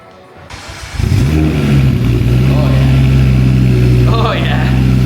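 A Volvo S60R T5 engine fires up and idles loud and steady through a newly fitted exhaust, with a deep rumbling drone that holds throughout, and a person talks briefly over it.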